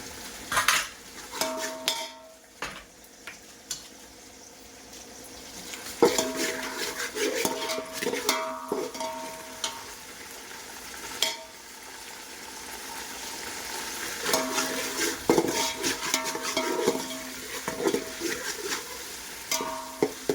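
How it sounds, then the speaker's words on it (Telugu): Ginger garlic paste frying with garam masala in a pan for Andhra-style dum biryani, with a steady sizzle under repeated metal spoon stirring and scraping clinks throughout, no voices. "గరం మసాలా వేసుకొని రోస్ట్గా ఫ్రై చేసుకోవాలి."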